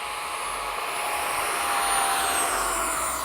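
An FMS 70mm F/A-18 radio-controlled jet takes off, its electric ducted fan giving a steady, loud high-pitched whine with a broadband rush that swells slightly mid-way and holds without any talk.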